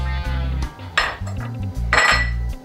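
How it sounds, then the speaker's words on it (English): Corn chowder ladled from a pot into a blender in a kitchen, with metal clinks and scrapes of utensil against cookware over a low musical background, two louder clanks standing out, and no speech. "I'm going to take half of the soup that we have in the pot and transfer it into the blender."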